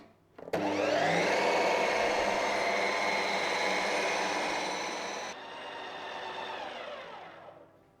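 A Ninja Creami ice cream maker whirs loudly, steadily and continuously, like a blender, then drops slightly in pitch before winding down at the end.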